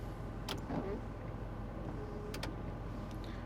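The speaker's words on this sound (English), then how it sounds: "Wipers." Windshield wipers run on a 1991 Ford Bronco 4x4 Eddie Bauer Edition. Two soft, brief sweeps about two seconds apart sound over a low, quiet hum.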